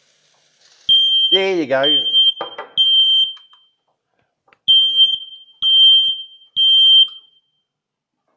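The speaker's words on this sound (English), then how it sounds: "you've seen one of these, that's a smoke detector" A smoke detector set off with CRC smoke test spray gives a series of short, shrill, evenly spaced beeps, close and loud, with someone speaking briefly at the start.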